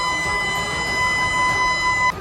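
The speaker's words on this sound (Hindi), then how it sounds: "इस दौरान वहां खतरे का सायरन लगातार बजता रहा।" A danger warning siren wails steadily at a Russian port, a sustained loud tone with harmonics holding for about two seconds before cutting off, over a noisy background.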